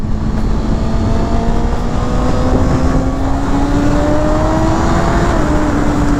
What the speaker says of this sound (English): kind of give it some throttle just to get like one decent pull